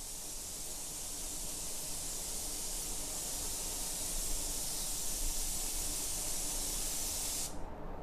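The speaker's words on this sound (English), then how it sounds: "I'm just using the gun as a blow gun here in conjunction with a tack rag" A steady, loud blast of compressed air from a spray gun used as a blow gun hisses continuously for several seconds, then cuts off abruptly near the end.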